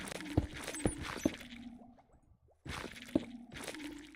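Water placed in Minecraft gives soft squishy splashes and drips, several quick wet plops in a row, a brief pause, then another short burst, close and fairly quiet.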